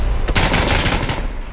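Light machine gun firing in PUBG: a loud, sustained automatic burst of rapid, evenly spaced shots running the full length, with a sharper crack near the start and no talking.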